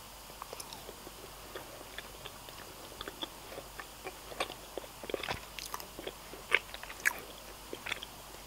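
Close, quiet biting and crunchy chewing of a Reese's white chocolate peanut butter cup, with soft irregular crunches and mouth sounds growing slightly louder toward the end, no talking.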